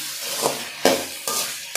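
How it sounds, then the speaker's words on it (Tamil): Steady sizzling and hissing from a hot pan, with a few sharp scraping stirs breaking in at intervals. "எல்லாம் சேர்த்து நல்லா வதங்கட்டும்."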